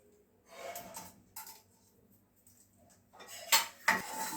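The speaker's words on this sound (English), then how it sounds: "I am roasting the coriander and the chili first" Coriander seeds and chili being dry roasted in a pan, with intermittent scraping and clinking of a utensil against the metal, growing louder with sharp clatters near the end.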